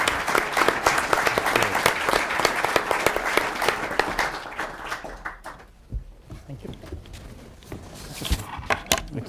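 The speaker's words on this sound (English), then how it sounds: "I want to close by asking you for a big round of applause for our very innovative panel" Applause from a summit audience rings out for the panel, with strong close claps in a dense crowd sound that thins around the middle, then picks up again near the end, with voices talking underneath.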